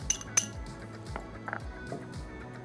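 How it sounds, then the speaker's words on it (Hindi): A spoon clinks against a bowl while keema stuffing is mixed with mint and green chilies, giving a few sharp, bright taps near the start and softer scraping knocks after, close and fairly quiet. "इन तमाम चीज़ों को मैं अच्छा सा मिक्स कर लेती हूँ"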